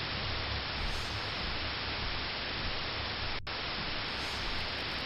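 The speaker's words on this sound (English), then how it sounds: "Television screen is filled with white noise again." Dense white-noise static hisses steadily from a TV screen in the video game Fear & Hunger 2: Termina, with one brief dropout partway through.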